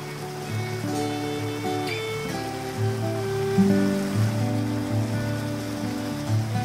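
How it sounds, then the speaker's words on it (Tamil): Heavy rain falling as a story sound effect, a steady wash of rain beneath sustained musical tones that continue throughout. "கனமழை பெய்ய ஆரம்பித்தது."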